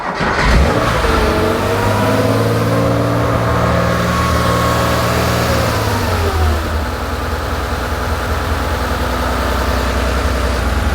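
A Porsche 911 2.8 RSR race engine with a weak battery fires up and revs hard, a loud, close, steady roar with rising and falling engine pitch that settles toward a rough idle.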